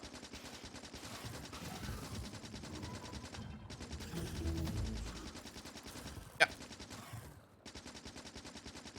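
Rapid automatic gunfire in the video game Wild Card, dense bursts crackling almost without pause, with a heavier blast partway through and a short gap before the shooting resumes.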